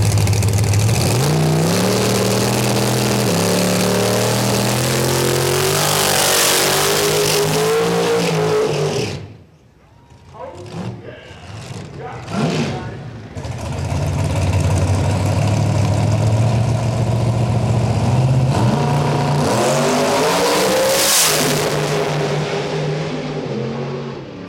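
Race cars revving loudly and accelerating at a drag race, with a deep roaring engine that drops to quiet sputters midway before another car thunders up close again.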